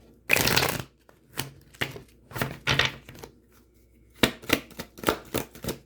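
A Crystal Power Tarot deck being shuffled up close, with a long riffle burst followed by a series of quick crisp card flicks and a final run of rapid riffles, no voices.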